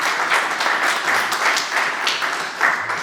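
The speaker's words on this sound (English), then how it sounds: "Give a round of applause for that." Audience applause rolls steadily throughout, a dense crowd clapping with slight swells, no voices standing out above it.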